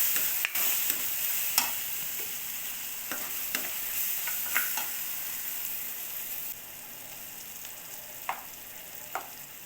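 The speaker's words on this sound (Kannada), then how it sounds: "ಈಗ ಹಾಗೆ ಸ್ವಲ್ಪ ಫ್ರೈ ಮಾಡ್ಕೊಳ್ಳೋಣ" Shredded cabbage fries in a pan with turmeric and pepper, a soft continuous sizzle broken by repeated sharp scrapes and taps of a spoon stirring against the pan.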